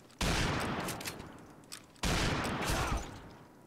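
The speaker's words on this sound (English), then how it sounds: "Whoa, I got shot at. I'm getting shot at." Gunfire in a multiplayer first-person shooter video game, two loud bursts of rapid automatic fire, each sharp-onset volley trailing off, with a short gap between.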